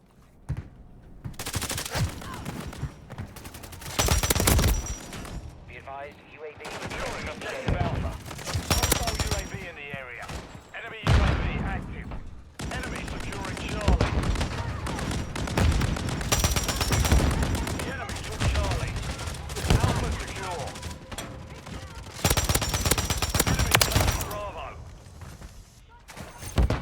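Gunfire in Call of Duty: Modern Warfare 3, a Domination match on the Rust map: dense, loud bursts of automatic fire and scattered single shots, with brief lulls, under occasional callout voices.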